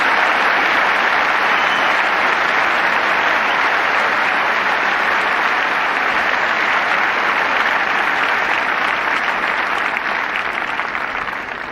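A Wimbledon tennis crowd applauds during a 1985 third-round match between Boris Becker and Joachim Nystrom, sustained dense clapping from a large audience that holds steady and loud throughout, with little else audible.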